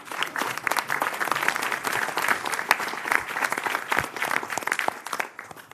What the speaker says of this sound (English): let's give ourselves a round of applause for making it this far.